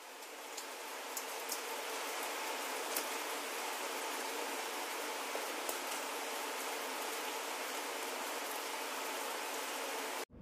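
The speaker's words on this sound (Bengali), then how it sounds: "চারদিক ঢেকে গেল মেঘে আর শুরু হলো অঝোর ধারায় বৃষ্টি।" Heavy rain pours down at Sairu hill resort in Bandarban, a dense, even hiss of falling water with scattered nearer drips, steady throughout and cutting off abruptly at the end.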